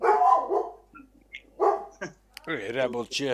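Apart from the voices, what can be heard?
guardian dog barking at passing neighbors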